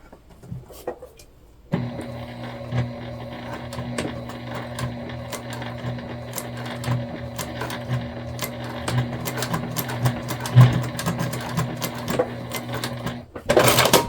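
Sewing machine stitching a tote bag in heavy printed fabric, running continuously up close with a steady motorized hum and rapid needle clatter for most of the stretch before stopping.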